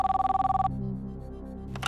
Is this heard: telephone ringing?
yes